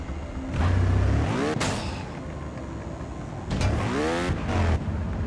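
A motorbike engine in the Trials Fusion video game revs hard while climbing a steep hill, with two surging acceleration bursts that rise in pitch, separated by a brief whoosh and a quieter idle.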